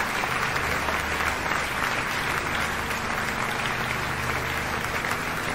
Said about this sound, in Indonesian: Berikan tepuk tangan yang meriah untuk pemasangan tiang pancang pertama.